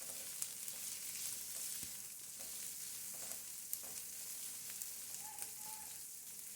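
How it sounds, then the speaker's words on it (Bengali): About two cups of chopped onion fry in hot oil in a pan for a small-fish curry, giving a steady, even sizzle and crackle that sounds mid-distance and moderately quiet, with a few faint clinks. "পেঁয়াজটা তেলের ভিতর খুব ভালো করে ভেজে নিব"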